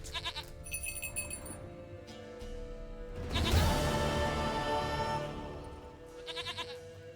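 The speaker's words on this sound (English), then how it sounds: "sweetest goat" A goat in The Witcher 3: Wild Hunt bleats in a few wavering calls set against game music and ambient sound, with a louder burst of noise midway through.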